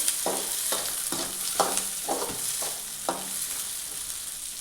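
Green chilli, onion and garlic sizzle in coconut oil in a cooking pot while a spoon scrapes through them in about seven regular strokes, close and clear over the steady frying hiss.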